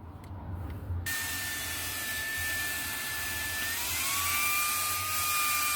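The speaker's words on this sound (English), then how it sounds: "you've got to get yourself one of these Dove T portable handheld vacuum cleaners" A Dovety portable handheld car vacuum cleaner switches on after a second of quiet, then runs with a steady high-pitched motor whine and airflow rush whose pitch shifts slightly partway through, close up.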